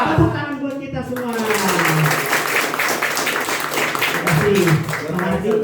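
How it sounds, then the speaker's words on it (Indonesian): Audience applause at a university community-service seminar on investment: broad, steady clapping from a room full of people over several seconds, with a voice speaking over it at the start and again near the end. "Tepuk tangan buat kita semua."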